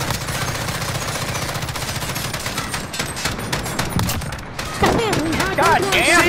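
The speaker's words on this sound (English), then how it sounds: "God damn, you shoot enough bullets?" Dense, continuous automatic gunfire from a Call of Duty: Modern Warfare match, loud and relentless. Rapid bursts overlap with other game sounds, and a change in the mix comes near the end.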